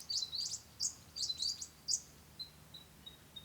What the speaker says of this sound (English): I love the bird noises around here.